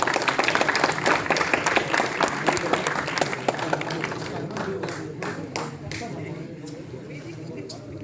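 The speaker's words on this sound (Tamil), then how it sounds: "நல்ல கைத்தட்டல் கொடுத்துடலாமா?" Audience applause at a Tamil film launch ceremony for Idhayakovil, a dense stretch of clapping that runs throughout and eases off toward the end, with crowd murmur beneath.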